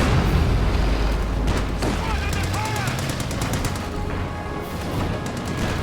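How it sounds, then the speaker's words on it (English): A machine gun bunker in Company of Heroes 2 fires rapid, rattling bursts amid booming explosions and battlefield noise, dense and continuous throughout, with voices faintly audible underneath. "Machine gun bunker."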